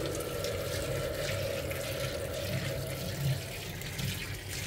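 Hot boiled water poured from above over a kitchen chimney filter, a steady close splashing and trickling stream that runs continuously without pause.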